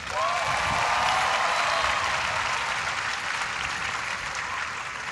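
Audience at a university welcome ceremony breaking into loud, sustained applause, a dense wash of clapping that holds steady and tapers slightly toward the end, with no talking over it.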